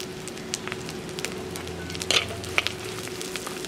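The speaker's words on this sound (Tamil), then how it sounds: "இதையும் போட்டு பச்சை மிளகாயம் போட்டு விடுவோம்." Green chillies dropped into hot oil for a Jaffna-style brinjal kadala curry, a faint crackling sizzle with a couple of sharp pops and a steady low hum beneath.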